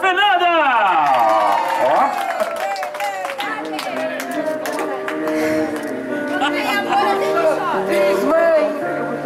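A crowd at a mother's birthday celebration in Cangaíba, São Paulo claps and cheers loudly and close, the clapping continuing under excited voices and whoops.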